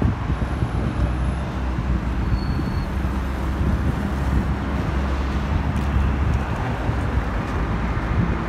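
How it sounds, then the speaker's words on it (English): Steady roar of cars on a one-way road in the Gambia, a continuous wash of traffic and wind noise at mid distance, with no talking. "So now the cars are using that side."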